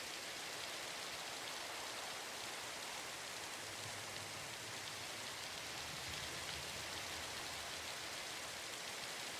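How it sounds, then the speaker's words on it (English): Steady rain falling in the Minecraft video game, a dense, even hiss of droplets without pause, moderately faint and with no one talking. "is this rain ever gonna go away?"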